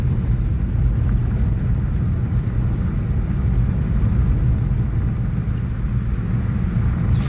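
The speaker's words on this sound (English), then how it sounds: "we're going down this dirt road now" A car rolls along a dirt road near Brighton Recreational Area, giving off a steady low rumble of engine and tyres on gravel. The noise holds constant, close and fairly loud throughout, with no talking.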